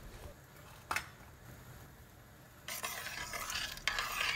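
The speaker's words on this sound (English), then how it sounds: "Mix the dal and pulses very well and then boil it for minimum 10 minutes." Moong and chana dal with turmeric being stirred in a pot of water, scraping and clinking with a sharp knock near the start and a louder, busier burst of stirring in the last seconds.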